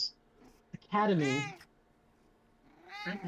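A cat lets out a clear, drawn-out meow up close, followed after a pause by the start of a second meow, with a quiet room between the calls.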